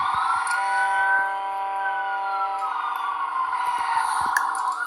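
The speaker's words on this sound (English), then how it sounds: "So they're trying to warn everybody with the siren first, and then they're going to do the tornado siren." A police siren sounds a tornado warning, giving off a loud, sustained wailing tone that shifts pitch partway through and carries on steadily throughout.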